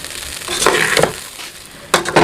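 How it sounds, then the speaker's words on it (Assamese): Paneer sizzling in a pan on a stove during home cooking, with stirring bursts that rise and fall close by, no talk. "এতিয়া এইখিনি 5 মিনিটমান সময় ভাজিব লাগিব।"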